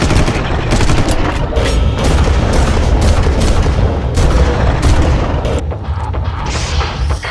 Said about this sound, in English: It sounds like a war zone out there